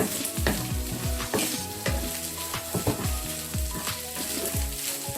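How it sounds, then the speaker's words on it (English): Nigerian fried rice sizzles steadily in a pan while a utensil scrapes and stirs it in repeated strokes, producing a close, continuous frying hiss punctuated by rhythmic clatters, with no talking. "This is fried rice, so I'm going to fry it like this a bit."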